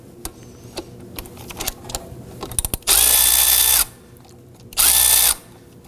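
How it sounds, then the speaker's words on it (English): A power tool with a 12mm socket loosens the belt adjuster on a 2005-2009 Subaru Legacy 2.5L engine, giving two loud, steady whirring bursts of about a second each after a few scattered metallic clicks. "we're going to do that by using a 12mm socket down here on the adjuster"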